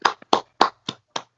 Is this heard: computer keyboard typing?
no